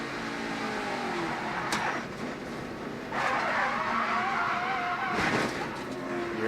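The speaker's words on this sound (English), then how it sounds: "You heard the contact, the impact from Kinsey Ruston right there" Race cars in an ARCA Racing Series event at Lucas Oil Raceway, Indianapolis, making contact as one spins, with roaring engines, tire skidding and a sharp impact noise mid-clip, loud and continuous over crowd-level track noise.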